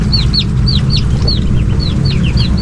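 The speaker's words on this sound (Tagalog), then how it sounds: "Nakapasok pala uli rin isang manok natin." Chickens cluck and call again and again in a backyard farm, with brief bright calls repeating over a steady loud rumble of background noise.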